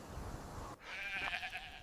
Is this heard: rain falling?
no